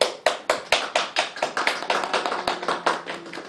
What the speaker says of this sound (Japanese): はい、皆さん拍手で。